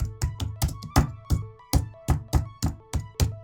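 Heavy, deliberate keystrokes on a computer keyboard, struck hard and slowly, typewriter style, about a dozen loud thudding taps in a steady uneven rhythm, close and alone.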